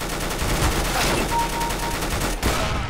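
UMP-45 submachine gun fire in Counter-Strike: Global Offensive, with loud, rapid bursts of shots crackling almost without pause through the whole stretch and a brief break near the end.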